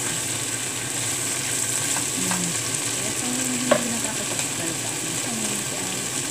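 Squash, okra and beans with anchovies sautéing in a pan as coconut milk goes in, a steady broad sizzle with faint stirring scrapes and a brief clatter near the end, no talk.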